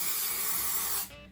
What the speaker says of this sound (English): then spray everything in so that it's nice and secure